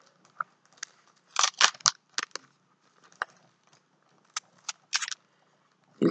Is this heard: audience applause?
no